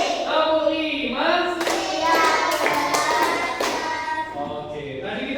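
Children in a classroom clap their hands in rhythm as a group, with several crisp bursts of applause-like clapping rising over a steady wash of young voices and chatter.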